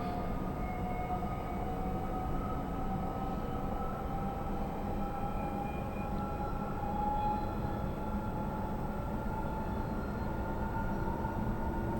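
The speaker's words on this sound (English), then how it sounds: "I've been on one of these more modern tube trains." Modern London Underground tube train on the Metropolitan Line in Train Simulator 2020, a steady rumbling run with rising and falling motor whine and faint tonal hums, continuous and moderately quiet with no talk.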